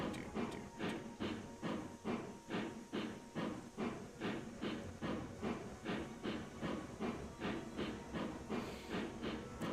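Steam locomotive in the Railroads Online game chugging steadily, with a regular rhythm of hissing exhaust beats repeating about twice a second over a continuous low rumble, heard alone without voices.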